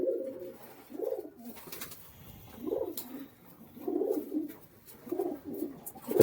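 Madras pigeons coo in a series of about five soft, rolling phrases with short pauses between them, close by and without any talk.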